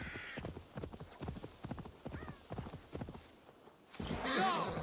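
Horse in the WolfKiss video game trotting with a steady clip-clop of hooves, then a loud whinny near the end.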